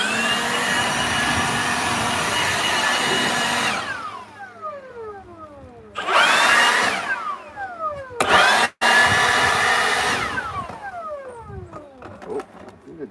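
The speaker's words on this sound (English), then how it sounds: "Now I just got to get it cleaned out with a leaf blower." Leaf blower roaring while clearing sealant debris and nails from a roof flashing job on a clapboard and asphalt shingle house, loud sustained bursts starting and stopping several times with brief pauses between.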